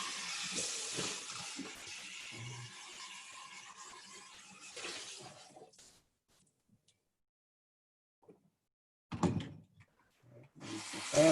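Tap water runs into a sink while a blender jar is rinsed out between smoothies, a steady splashing wash for about six seconds, then quiet, then brief renewed splashes and clunks near the end.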